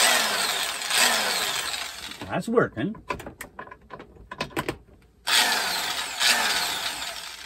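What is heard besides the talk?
power drill running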